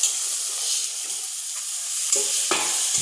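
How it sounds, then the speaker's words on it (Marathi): Boiled black peas tipped into hot spiced oil tempering for a jackfruit bhaji: a steady close sizzle and hiss, with stirring scrapes and two sharper bursts of frying as the peas land near the end. "यामध्ये हे काळे वाटाणे शिजवून घेतलेले होते ते टाकायचे फोडणीला"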